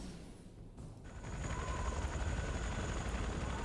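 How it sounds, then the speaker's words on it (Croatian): A helicopter flies in the video game Counter-Strike Deleted Scenes, its rotor and engine drone rising from a moderate level to a louder, steady throb heard close and alone. "U helikopter se nalazimo."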